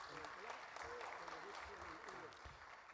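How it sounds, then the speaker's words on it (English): Applause for conference panelists at a sustainable trade event in Africa, a steady dense clatter of many hands clapping throughout, with some faint murmuring voices underneath that taper slightly near the end. "let's give our panelists, great panelists, a warm round of applause one more time"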